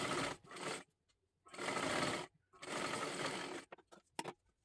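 Sewing machine stitching a blouse lining right along the fabric edge, running in three loud sustained bursts separated by short pauses, ending with a few brief stop-start jabs.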